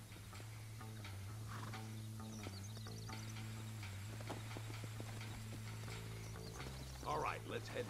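Horse hooves clip-clop in a steady walking rhythm in Red Dead Redemption on Nintendo Switch, over a low humming game soundtrack, with a few scattered clicks and a brief louder burst near the end.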